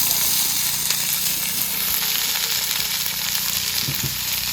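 Vegetables sizzle and fry steadily in hot oil in a pan in a village kitchen in Assam, a continuous loud crackling hiss with occasional stirring, and no talking.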